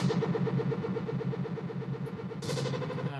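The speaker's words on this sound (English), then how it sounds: "okay, and I'm going to start putting the FM knob up" A Subtractor software synthesizer plays a low sine wave as its FM knob is raised, giving a loud buzzing, pulsing, engine-like rumble that brightens in the final second.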